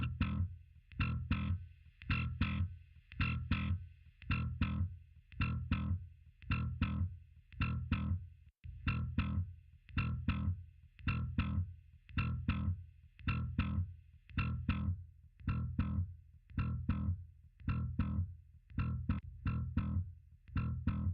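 A heavily distorted electric guitar through a Line 6 Helix preset chugs out a steady rhythmic riff, repeated palm-muted strums with a thick, saturated tone and no voices.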